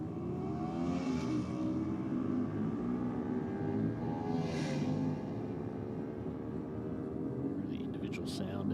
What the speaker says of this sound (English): Really individual sound out of those mid-90s. Ducati twin engines.